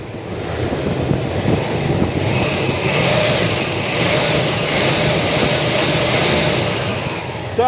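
A 1972 Chevrolet Malibu Convertible's engine runs steadily, a continuous, fairly loud rumble holding an even level throughout with no voices.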